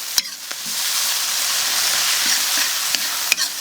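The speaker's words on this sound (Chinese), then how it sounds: "给它炒。" Beef stir-fried in a wok with soaked dried chilies gives off a loud, steady sizzle, with sharp scraping knocks from the stirring tool at irregular moments.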